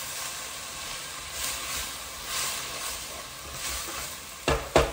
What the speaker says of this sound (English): So now I'm going to add my garlic. I've got 4 cloves of garlic that I have finely diced. Cook this a few more seconds.